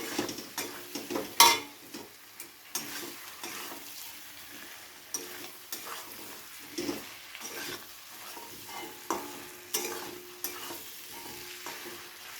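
Thinly cut potatoes frying with flat beans in a pan, a low sizzle with rhythmic spatula scrapes and knocks against the metal pan repeating every second or so, close by, no speech.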